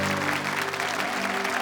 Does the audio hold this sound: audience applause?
yes